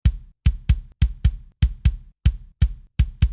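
Full layered kick drum with processing plugins switched off, from an emo/pop punk mix: a steady pattern of about fourteen punchy thumps, often in quick pairs, each with a bright click and a short low-end tail, alone.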